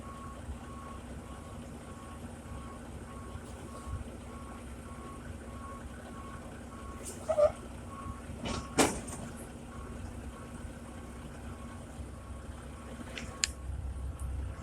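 Truck reverse alarm beeping steadily as a tractor backs under the gooseneck of a removable gooseneck (RGN) trailer, a repeating tone over a low engine rumble with a few louder clunks partway through.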